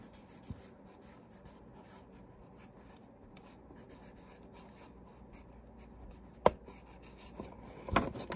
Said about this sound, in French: Puis, j'écris,